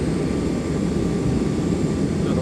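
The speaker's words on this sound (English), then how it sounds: "And the 74 now is pushing back." A Boeing 747 pushing back at East Midlands Airport, its engines giving a loud, steady broadband roar that holds constant with no voices.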